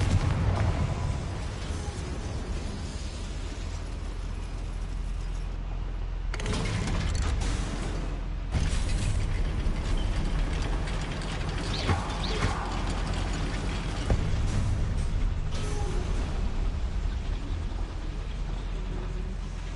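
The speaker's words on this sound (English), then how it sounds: "Look at this lift. Impressive workmanship for so simple a device." A goblin mine lift mechanism in a fantasy game grinds and clanks steadily with heavy mechanical rumbling and ratcheting, with a louder surge partway through, no speech over it.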